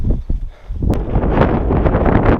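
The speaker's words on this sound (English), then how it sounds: "Not sure if you can hear me because of the wind" Strong wind on open moorland buffets the microphone close-up in a loud, rumbling roar that gusts unevenly throughout.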